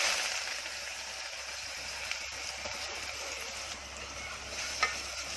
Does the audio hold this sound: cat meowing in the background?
no